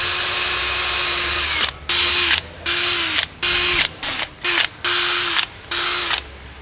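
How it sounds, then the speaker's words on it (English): Power drill boring 8mm pilot holes for a Full Flow Designs splitter kit on a Hyundai i20N, loud whining bursts repeatedly starting and stopping in short runs with brief pauses between them. "Now take your 8mm drill bit and start putting in your pilot holes."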